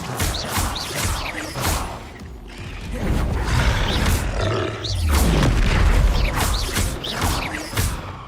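Bombarda spell explosions in the Hogwarts Legacy video game: deep repeated booms with mechanical creaking and grinding, amid an ongoing loud combat clamour and grunts.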